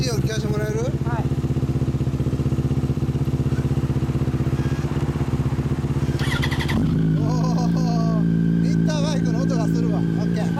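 A 2004 Yamaha YZF-R1 with a Termignoni exhaust idles loudly and steadily nearby, then is blipped around the seventh second into a sharper, higher rev before settling back to a rough, throbbing idle.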